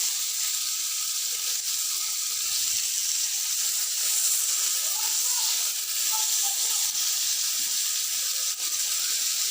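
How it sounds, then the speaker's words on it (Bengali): Pomfret fish frying crisply in oil, a continuous broad hiss of sizzling held at an even level throughout, close and fairly loud. "আপনারা দেখতেছেন যে আমি মাছ ভাজতেছি।"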